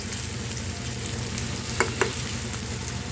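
Onions and green chillies fry in a little oil in a karahi, with a steady close sizzle throughout and two brief stirring clatters near the middle.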